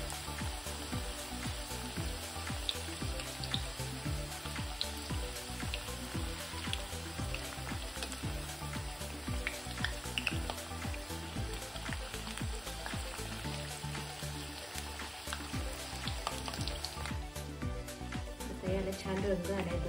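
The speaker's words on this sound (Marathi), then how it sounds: "छान आपण आता याला गोल्डन ब्राऊन कलर येईपर्यंत तळून घेऊया" Methi papdi dough pieces deep-fry in oil on low heat toward golden brown, giving a soft, continuous bubbling sizzle with fine crackles throughout, fairly quiet and steady with no talking.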